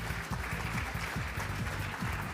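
Applause from a charity fashion show audience rises as a steady wash of clapping, partly masked by loud rhythmic background music with a thumping low beat.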